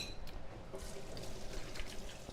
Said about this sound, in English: Quickly rinsing the hand.